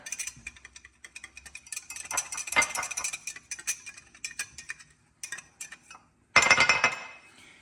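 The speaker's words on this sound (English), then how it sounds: "I'm just going to whisk that in" A whisk stirs cornstarch and milk into a slurry in a bowl, giving quick, irregular metallic clinks and taps in bursts with short pauses, ending in a louder, denser flurry.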